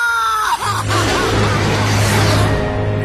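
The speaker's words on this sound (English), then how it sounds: "I vaguely hear a scream of terror that sounds much like my own voice from afar." A scream of terror from the Ace Combat 6 video game, a sustained loud cry that rises sharply and carries on for about two seconds over a dense, roaring background.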